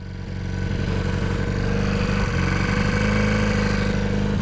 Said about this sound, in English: So we've got quite a high idle.